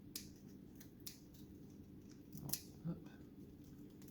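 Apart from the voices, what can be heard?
scissors cutting a rolled pastry dough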